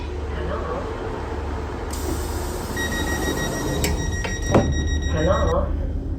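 A train rumbles along steadily while high electronic tones and announcement chimes sound, with a clunk partway through and a voice speaking over the noise.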